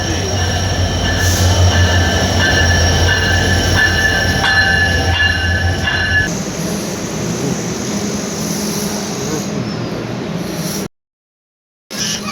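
The Jahanabad Express rolls into a station, loud and near, with a steady rumble of wheels, high squealing from the rails and hum from the carriages, then a brief cut near the end.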